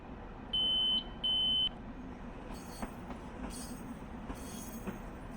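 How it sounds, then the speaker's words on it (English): Cab signal alarm aboard a Long Island Rail Road train sounds two steady electronic beeps, each about half a second, over the constant rumble of the moving train, followed by faint rail clicks. "We're being beeped for a 30"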